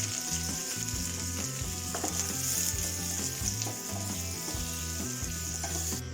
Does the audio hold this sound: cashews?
yes